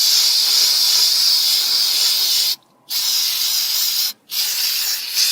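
Brake cleaner sprays from an aerosol can with a steady, loud, continuous hiss, cut by two short pauses before resuming, during rear brake work on a 2004 Volvo XC90.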